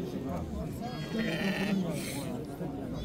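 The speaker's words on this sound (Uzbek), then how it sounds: "Soluq qo'ylar ekan." Sheep bleat at a busy livestock market where lambs and fat-tailed sheep are sold, several nearby bleats rising above a steady bustle of voices and crowd noise.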